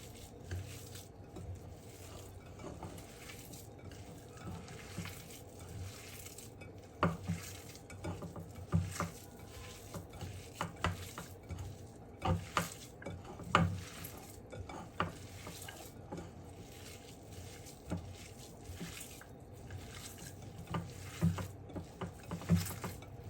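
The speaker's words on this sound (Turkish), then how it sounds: "köftemizi yoğurmaya başlıyoruz" Minced meat mixture for köfte, with baking soda added, being kneaded by hand, producing soft squelching slaps and squishes in an irregular rhythm, close and fairly quiet.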